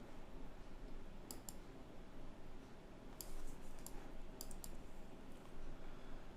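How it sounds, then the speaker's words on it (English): Square bracket keys pressed on a computer keyboard, a few sharp faint clicks in small clusters over quiet background hiss, with no talking. "I'm resizing the brush using the left and right square bracket keys."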